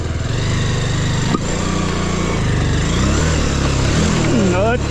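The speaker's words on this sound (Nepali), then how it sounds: "म चाहिँ यस्तो बाटोबाट नि बाइक निकाल्यो" A motorbike is ridden along a rough track, its engine giving a close, continuous low drone that rises and falls, with someone talking over it near the end.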